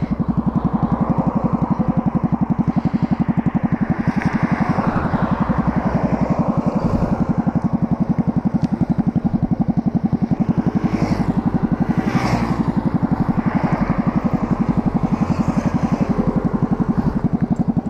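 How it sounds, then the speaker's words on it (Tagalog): A motorcycle with a broken power pipe exhaust runs close by with a loud, rapid, rattling engine beat that stays steady and raw throughout, with no voices. "Nasira pa yung power pipe natin mga bay."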